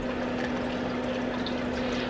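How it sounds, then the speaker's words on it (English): Water steadily filling a garden hose submerged in a small bucket, a continuous close gurgling wash with a faint steady hum underneath, no voices. "I'll put this end in the water and fill my hose up with water"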